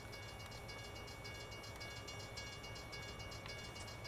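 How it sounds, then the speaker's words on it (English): A train somewhere off in American Truck Simulator, a steady low rumble of rolling cars with faint rhythmic clatter, continuous and fairly distant under the truck's driving noise, with no talking. "Oh, it's a train somewhere. Where's this train?"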